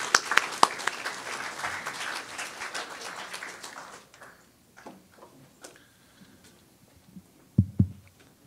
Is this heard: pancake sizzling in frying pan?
no